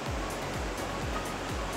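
Akaa waterfall in Ghana, a steady loud roar of falling water filling the whole scene with a rushing, broadband wash and no voices.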